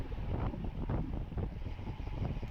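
Gusty crosswind roars and buffets against a rider's microphone during a fast amateur bicycle road race in open countryside, a continuous low rumble with uneven surges.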